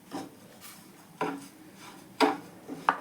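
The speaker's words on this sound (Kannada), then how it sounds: "ಸಕ್ಕರೆ ಹಾಕಿ ನಾವು ಹುರ್ಕೊತಾ ಇದ್ದೀವಿ" A spoon stirs and scrapes sugar being roasted in a pan: a few distinct scraping strokes at irregular intervals, close and fairly quiet, with no talking.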